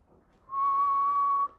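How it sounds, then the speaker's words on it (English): A single clear whistled tone from a person, held steady for about a second, close and alone with no talk around it. "You whistle like this."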